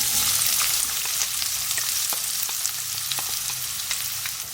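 Chopped medium onion fries with cumin seeds in a pan, giving a steady, close sizzle with light crackling and occasional stirring clicks. No one speaks.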